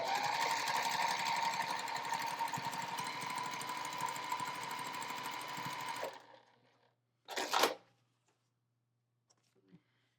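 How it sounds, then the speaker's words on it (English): A sewing machine stitches a quarter-inch seam on a folded quilt triangle, running in one continuous close buzz for several seconds, then stopping, followed by a brief short burst and quiet. "And sew a 1/4 inch seam."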